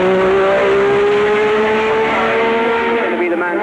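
A 1984 Formula 1 car testing at Brands Hatch: a loud, high-pitched engine whine holds steady and close throughout, its pitch sagging slightly toward the end as the car passes.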